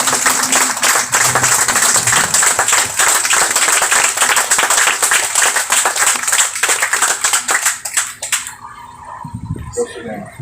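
Dense, loud applause fills a morning meeting of a freedom convoy for about eight seconds, then fades to a few scattered claps with voices underneath.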